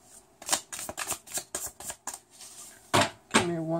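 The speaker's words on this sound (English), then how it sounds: "So I'm just shuffling the cards here." Tarot cards being shuffled by hand, a run of crisp riffling bursts and flicks in a quiet room, close and fairly soft, ending with two louder shuffles.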